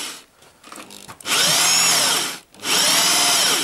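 Power drill boring 50 mm holes into wooden parrot nest boxes, two loud sustained whining bursts with a rising then falling pitch, separated by a brief pause, after a few light handling knocks.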